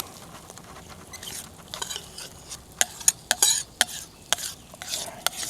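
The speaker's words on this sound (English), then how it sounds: "I'm using my Ozark Trail hobo tool to stir it up" A pot over a campfire stirred with an Ozark Trail hobo tool, sharp metallic scrapes and clinks in an irregular rhythm over a faint low background, close up.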